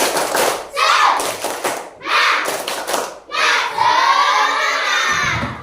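Schoolchildren in a classroom do a rhythmic 'tepuk semangat' clap cheer, bursts of quick claps alternating with loud group shouts, ending in a sustained cheer.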